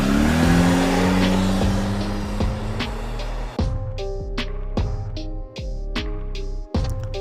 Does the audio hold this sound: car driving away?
yes